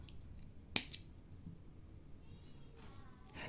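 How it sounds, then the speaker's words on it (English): Scissors make a single quick, quiet snip through crochet yarn, followed by faint handling rustle in an otherwise hushed room. "then cut your yarn."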